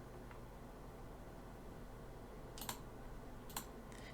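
Soft clicks from a computer keyboard sound as a few isolated keystrokes, faint and close, over a steady background hiss, while an email is addressed.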